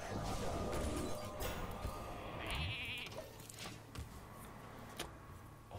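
A sheep bleats in the Hearthstone card game amid game sound effects and crashes, the bleat short and clear above a busy backdrop.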